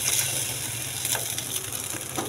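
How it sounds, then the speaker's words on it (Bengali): Egg frying in a pan at home, a steady broadband sizzle and crackle with a few sharper pops, close and continuous. "তো এখানে ডিমটা ভেজে নিচ্ছি।"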